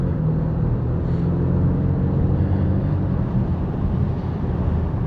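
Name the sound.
2024 Ford Mustang EcoBoost convertible exhaust while driving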